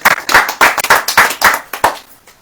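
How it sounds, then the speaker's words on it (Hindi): A church congregation claps hands together in a steady rhythm, about a dozen loud, close claps over two seconds, tapering off at the end. "ताली बजाओ यार।"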